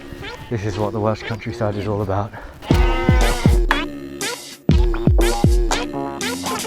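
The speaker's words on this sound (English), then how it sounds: "You can probably hear some sheep in the background." Sheep bleat in the background from a farm, several wavering calls, while someone talks nearby over them outdoors while walking past.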